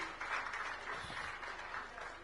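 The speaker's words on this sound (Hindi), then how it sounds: "मैं चाहूंगा एक बार जोरदार तालियां राजेश अग्रवाल जी के लिए भी।" Faint, distant applause for minister Rajesh Agrawal at a public gathering in Ambikapur, a soft, low-level wash of clapping with a brief low thump partway through.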